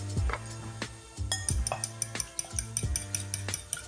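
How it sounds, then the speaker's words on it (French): Eggs being whisked with cream in a bowl for a quiche lorraine filling, with a steady rhythm of clinking strokes against the bowl, close and fairly loud, no voices. "on casse 2 œufs et on va les mélanger avec de la crème"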